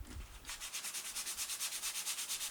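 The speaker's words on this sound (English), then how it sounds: "Take some fine sandpaper, about 320," Fine 320-grit sandpaper is rubbed by hand over a repaired area of an acoustic guitar's finish in quick, even back-and-forth strokes, a soft close rhythmic scratching heard alone.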